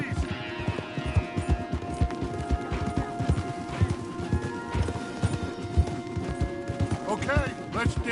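Horses galloping in Red Dead Redemption 2, with steady close hoofbeats clip-clopping in a fast rhythm throughout and a whinny near the end, while voices talk over them.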